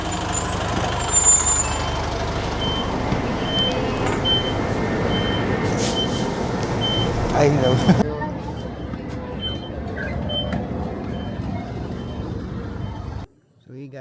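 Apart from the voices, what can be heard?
hop-on hop-off bus reversing with beeps and air brakes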